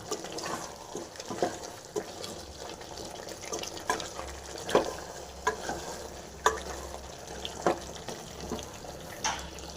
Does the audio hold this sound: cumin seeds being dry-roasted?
yes